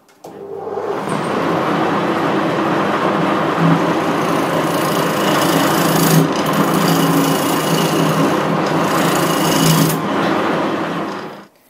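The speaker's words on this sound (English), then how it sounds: "I need to face off this edge and then turn the foot of the bowl." A roughing gouge cuts a burr elm bowl spinning on a wood lathe, giving a loud, continuous whirring scrape with a steady hum that starts abruptly and stops just before the end.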